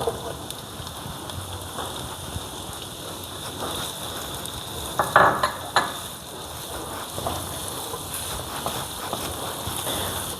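Garlic sizzles in a pan and chopped onion is added, part of a Brazilian escabeche dish. A dense, rain-like frying hiss continues throughout, with a sharp clatter near the middle, nearby and fairly quiet, with no speech.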